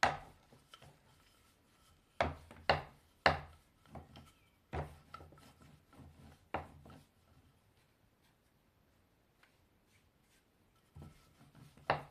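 Rolled-out dough for homemade snacks is cut with a knife on a board, giving sharp, separate chopping taps in irregular clusters, with quiet pauses between them and no talk.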